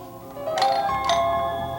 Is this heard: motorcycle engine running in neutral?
no